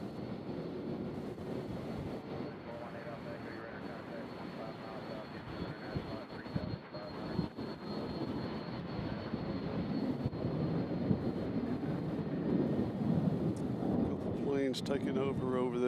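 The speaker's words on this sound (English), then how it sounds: "So this is Amerijet 767 going to Houston, Texas." An Amerijet Boeing 767 jet at Louisville's UPS World Port airport gives off a sustained, distant engine roar with wind noise, as voices talk over it.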